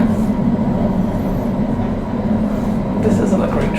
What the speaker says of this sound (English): This isn't a great train.